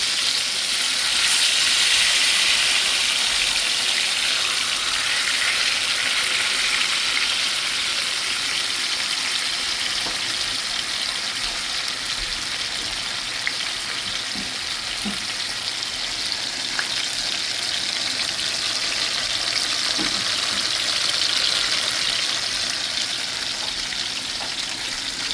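Salmon searing in a hot pan makes a loud, steady sizzle that holds evenly throughout without pause, with no talk over it.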